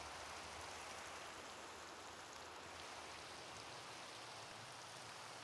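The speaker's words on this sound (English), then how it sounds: "I'm going to try to see if I can get it to stop raining" Steady rain pouring in Minecraft, a dense even hiss with no breaks or talk, holding at a constant level throughout.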